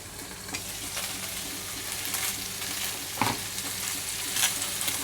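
A thick, well-seasoned hamburger steak fries in a pan, sizzling steadily and close, with small crackles and pops breaking through the constant hiss.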